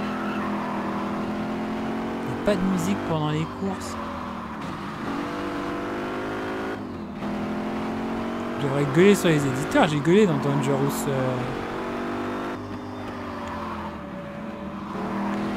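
Car engine noise from the racing video game Gear.Club Unlimited 2 on Nintendo Switch: a steady engine drone with shifting revs, running continuously beneath someone talking throughout.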